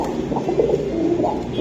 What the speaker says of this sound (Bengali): এই যে দেখেন, মাশাআল্লাহ অনেক সুন্দর কবুতর